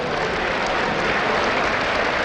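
A crowd at the Gamescom esports finals applauds, dense continuous clapping and cheering that fills the space steadily from start to finish.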